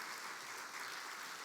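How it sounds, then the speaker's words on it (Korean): A church congregation applauds to welcome a missionary from Myanmar, a soft, steady wash of clapping heard from a distance. "나오실 때 우리 박수로 영접하시겠습니다."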